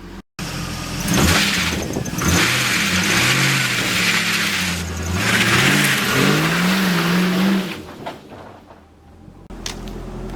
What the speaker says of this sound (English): the only thing left to do is to find out if it does a burnout